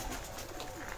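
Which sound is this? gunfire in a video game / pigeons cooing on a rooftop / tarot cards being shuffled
pigeons cooing on a rooftop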